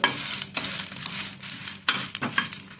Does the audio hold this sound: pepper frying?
yes